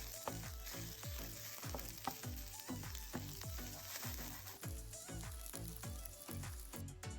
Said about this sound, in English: In the same pan, we cook the cauliflower florets that we have kept aside.